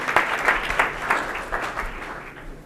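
Seminar audience claps for a woman called up on stage, a short burst of applause with distinct individual claps that gradually fades out.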